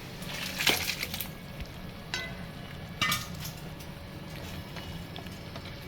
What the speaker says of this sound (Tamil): பிரிஞ்சு வந்தோடனே மட்டனை எடுத்து நம்ம போட்டுறோம்.